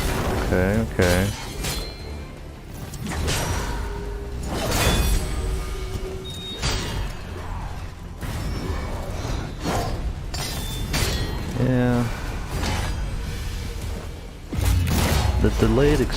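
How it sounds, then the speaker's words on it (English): Delayed sword explosions in the PC action game Godfall, repeated booming blasts and crashing impacts amid combat effects, with a voice talking between them. "The delayed explosions from this sword is really hard to use."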